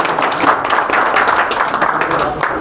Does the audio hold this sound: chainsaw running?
no